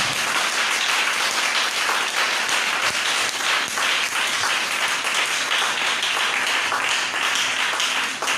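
Sustained applause and clapping from a church congregation at a divine healing seminar, dense and steady throughout, loud with no pauses.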